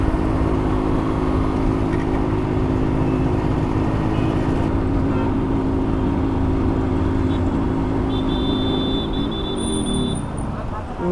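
A Yamaha RX100 motorcycle engine, running low on petrol and starting to jerk, drones loud and close for the whole stretch with a steady, rough note.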